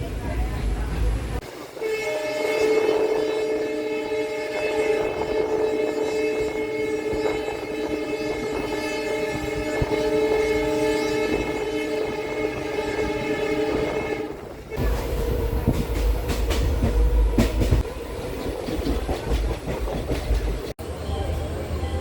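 A passenger train travelling through Kerala toward Aluva station runs steadily with a constant rumble, a long sustained horn blast over it, then wheel clatter and rattling, while people talk nearby.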